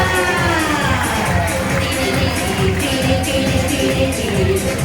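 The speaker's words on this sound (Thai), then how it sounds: "ขอเสียงปรบมือเป็นกำลังใจ ให้กับนักแสดงค่ะ" Audience at a dolphin show in Chanthaburi, a loud, dense crowd noise of clapping and cheers with children's shouts and whistle-like tones mixed in, sustained throughout.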